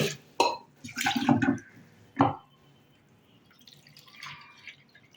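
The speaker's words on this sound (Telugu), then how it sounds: "కందిపప్పు ఒక కప్పు కుక్కర్లో వేసుకొని శుభ్రంగా వాష్ చేసుకోవాలి" Toor dal being washed in water in a pressure cooker, close wet splashes and sloshing in a few short bursts, followed by softer trickling and dripping.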